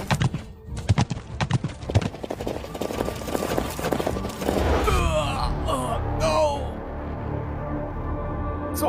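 A horse clip-clops in quick, steady hoofbeats, then lets out a loud, rising neigh and whinny as the hooves fade, all close by without speech.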